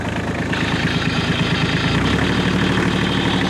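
A tractor engine pulling a Jaylor mixer wagon runs loudly with a steady throbbing beat, the pitch shifting partway through as the revs change.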